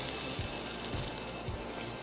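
Tempura batter made with cold water dropped into hot oil over high flame, a bright continuous sizzle with a few soft low thumps, close and loud with no voices.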